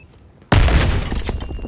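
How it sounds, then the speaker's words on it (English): A C4 charge detonates in a video game battle: after a quiet stretch, a sudden loud, close blast bursts out with a thick, rumbling roar that rolls on and slowly fades. "C4 is gonna blow!"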